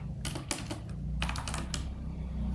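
Code being typed on a computer keyboard: bursts of quick, close key clicks in two clusters over a steady low hum, with no talking.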